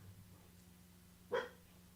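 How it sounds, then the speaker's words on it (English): A single short dog bark, fairly close, rises briefly over a low steady hum in an indoor room, with no other sound around it. "The good dogs are starting to lose their minds"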